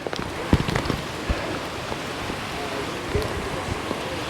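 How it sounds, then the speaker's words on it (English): Steady rain falls outdoors on a wet day during a rockhounding field trip for jade in Washington State, a dense continuous hiss with a few sharper drops and thumps close to the microphone, no voices. "It's definitely a rainy day, so putting this on."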